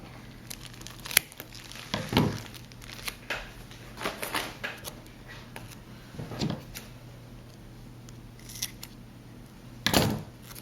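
Scissors snip through foam tape in a few separate, fairly close cuts, with quiet handling rustles and a faint steady hum between them.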